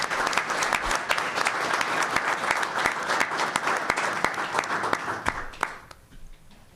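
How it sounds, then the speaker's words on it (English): A crowd at a school board meeting applauds steadily for about six seconds, dense overlapping claps that then fade out quickly. "So let's give them a big round of applause."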